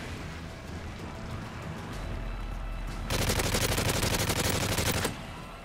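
Rapid automatic gunfire in the video game Resistance, a dense continuous burst of shots lasting about two seconds over a quieter background of game noise and distant firing.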